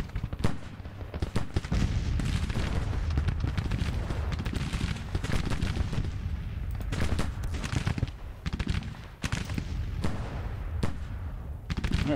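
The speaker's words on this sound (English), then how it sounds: "We'll let the guns just keep doing their thing" Artillery and rifle fire from a Civil War battle in the strategy game Grand Tactician, with dense, continuous volleys of sharp cracks and booms rolling under one another at moderate volume.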